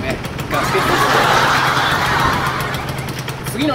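A Yamaha Champ RS scooter engine runs after a carburetor overhaul and air filter and spark plug replacement, holding a steady, buzzing idle throughout at close range.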